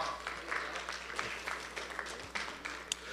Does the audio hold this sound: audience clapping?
yes